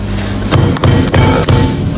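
Doughnut dough banged repeatedly onto a strong work surface, giving about five loud, dull thuds at irregular intervals over a steady background hum.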